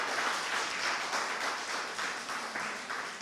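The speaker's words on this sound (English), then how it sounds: "You have to give our minister a bigger round of applause than that" Crowd at a farm tour launch event applauds a government minister, a dense, steady wash of many hands clapping at a distance, fairly soft and continuous without voices on top.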